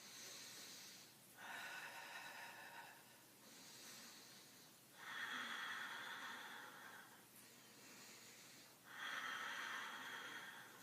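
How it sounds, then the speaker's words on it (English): Deep, slow yoga breaths, three long airy inhales alternating with softer exhales in a steady rhythm, close and breathy with no talk. "Big breaths."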